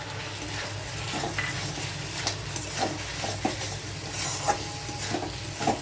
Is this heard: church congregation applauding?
no